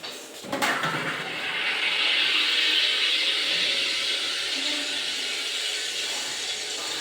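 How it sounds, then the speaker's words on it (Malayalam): A home soda maker carbonates water for watermelon lemon sherbet: a sharp knock, then a loud, continuous hiss of rushing gas that builds and holds steady for several seconds. "അടുത്തായിട്ട് നമ്മൾ സർബത്തിന് വേണ്ടിയുള്ള സോഡ അടിക്കും"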